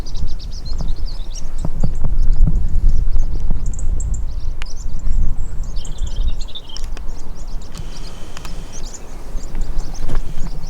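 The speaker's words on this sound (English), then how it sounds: "there's loads of little birds flying across" Many small birds chirp and twitter continuously in open countryside near a rocky outcrop in a field, with high, scattered calls over a constant low rumble of wind or distant noise.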